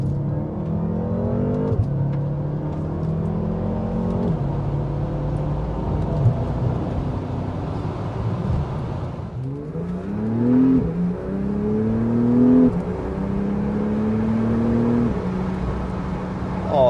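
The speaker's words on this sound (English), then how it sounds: "You can hear the turbocharger spooling, and it still carries that noise that everybody is used to with a Porsche 911." A turbocharged Porsche 911 accelerates hard in first gear without launch control, its engine note climbing in repeated rising sweeps through the gears, loud and close, with a brief dip midway before pulling strongly again.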